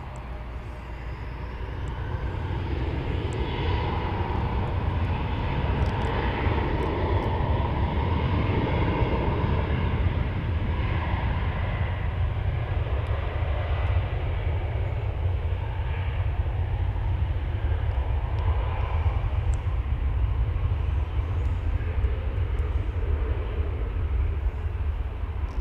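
An American Airlines Airbus A319 passes at Dallas/Fort Worth Airport, its loud, continuous engine roar rising over the first couple of seconds and then holding steady and dense throughout, with no talk.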